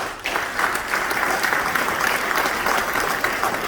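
Audience applause fills a New York welcome event for a visiting president, a steady, dense clapping from a large crowd that holds loud and even throughout.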